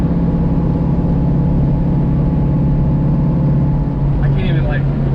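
A Dodge Challenger's engine roars loud and steady in a continuous low drone while doing a burnout, with a brief higher squeal rising near the end.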